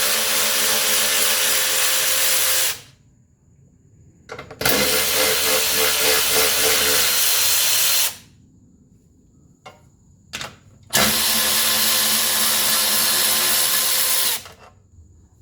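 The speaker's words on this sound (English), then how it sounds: "take your 10 millimeter, put it down in here. We're going to take those 3 nuts off." A power tool drives a 10 mm socket to remove nuts on a 1983 Mercedes 300D front suspension, whirring loudly in three long bursts separated by quiet pauses and brief clicks.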